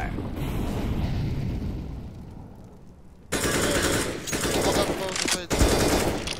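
Shooter video game gunfire: a steady rumble gives way to loud, dense bursts of rapid automatic fire with sharp crack-like hits, while players talk over the action.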